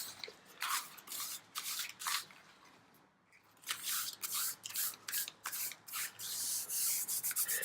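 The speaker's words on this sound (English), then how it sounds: "by just rubbing the tape, we're activating the glue" Kinesiology tape on the back of the thigh is rubbed briskly by hand, making close, repeated swishing strokes in quick bursts with a short pause partway through.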